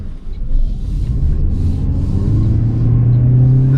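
A 2023 Toyota Prius hybrid accelerates in sport mode, a steady low engine drone and road rumble heard from inside the cabin, with the pitch rising gradually toward the end.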